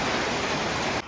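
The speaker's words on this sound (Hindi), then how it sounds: "अब इतने में आपको बारिश दिखाता" Steady rainfall during a motorcycle trip from Delhi to Sikkim, a dense, even hiss of falling rain up close that cuts off abruptly at the end.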